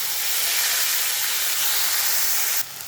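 Water hits a hot tempering of cumin, green chillies, curry leaves, asafoetida and sesame seeds in a pan, giving a loud, steady broadband hiss of steam that holds for over two seconds, then drops abruptly.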